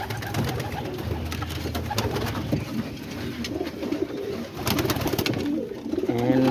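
Pigeons coo continuously up close while being fed, with soft rolling calls overlapping and some wing and shuffling noise mixed in.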